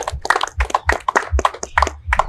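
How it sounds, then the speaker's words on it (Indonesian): Audience applause at an Indonesian cultural gathering honoring a guest, a quick run of close, loud, irregular hand claps with dull thumps beneath, heard on their own. "Tepuk tangan untuk beliau."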